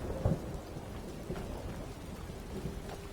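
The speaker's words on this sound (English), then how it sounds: "And it's Stormy." A steady rainstorm pours in Skyrim, with a low thunder rumble early on. Dense rain hiss continues throughout on its own, with no voices.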